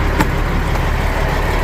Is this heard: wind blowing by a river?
no